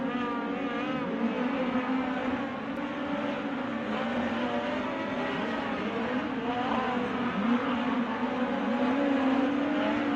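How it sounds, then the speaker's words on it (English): Midget race cars lapping Tri-State Speedway during Indiana Midget Week, engines bouncing off the rev limiter in a steady, loud, buzzing drone that holds for the whole stretch with no talk. "They're hitting the chip, the rev limiter."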